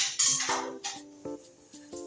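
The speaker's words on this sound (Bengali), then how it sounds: "দিয়ে আবারও এটা আমি ঢেকে রাখবো" A lid goes onto a dish of cooked food with a few light metallic clinks and ringing taps, close and quiet, each knock ringing briefly before the next.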